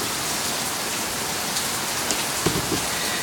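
Heavy rain pours steadily during a strong thunderstorm in central Oklahoma, forming a dense, continuous hiss with a few faint louder spatters and no talking.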